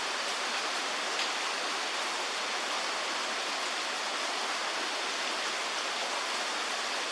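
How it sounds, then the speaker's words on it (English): Steady rain pours during the first winter storm on Jackson Street in Quincy, California, a dense, even hiss throughout with no voices. "it's raining all right."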